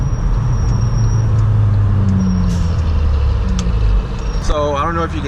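A loud Honda Accord engine rumbles steadily with a deep, uneven exhaust note, with a brief warbling tone near the end.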